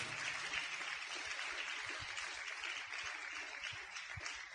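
A church congregation applauds together, a steady broadband wash of clapping that fills the whole stretch at moderate loudness with no voices over it.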